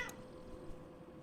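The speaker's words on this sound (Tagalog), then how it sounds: "Oh, may pusa." A cat meows once in a nighttime driving video game, a short, clear call at the start followed by quiet game ambience.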